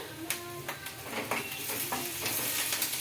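Tomato pieces are stirred into onions frying in a pan, a close steady sizzle with repeated scraping strokes of a spoon throughout, and no voices.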